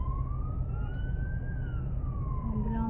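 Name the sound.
ambulance siren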